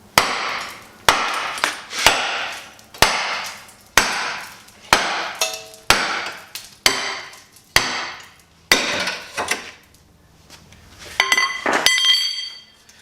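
Heavy hammer blows knock a shock mount bracket off a Jeep YJ, landing as a dozen loud, sharp metallic strikes in a steady rhythm about once per second, followed by a short clinking rattle near the end.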